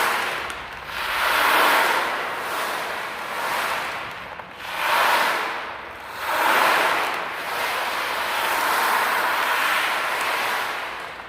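A rough, agitated sea sends waves surging in broad, rolling washes, rising and falling in slow cycles with no voices over them.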